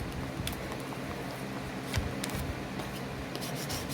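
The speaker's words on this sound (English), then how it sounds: "And make sure you rub them out so they all can come off." A Cricut-cut vinyl towel decal being rubbed down for transfer makes a steady, close, dry scraping rub that continues throughout with a few brief taps, with no voices.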